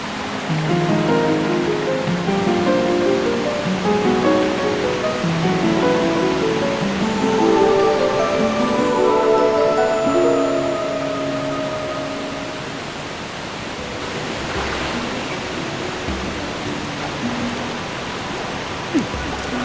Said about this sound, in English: Isn't that a splendid waterfall? This one is the largest in our domain